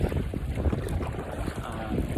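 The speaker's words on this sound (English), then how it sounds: "A little windy out here today." Strong wind buffets the microphone outdoors on open water while kayaking toward a beach, a steady low roar with gusty swells and faint wave wash underneath throughout.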